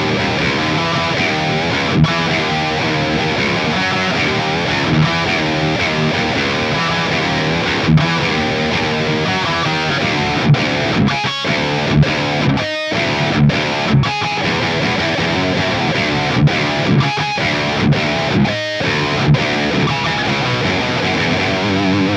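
Heavily distorted electric guitar runs through an STL Tones Tonality Josh Middleton amp plugin, playing dense chugging riffs with brief stops and sharp accented hits, loud and continuous throughout.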